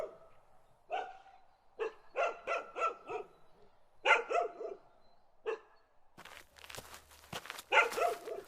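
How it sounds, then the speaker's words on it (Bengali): A black dog barks repeatedly nearby in short, uneven bursts, some single and some in quick runs, with a scuffling noise in the later part. "হঠাৎ আমার ঠিক পাশ থেকে একটা কুকুরের ডাক শোনা গেল"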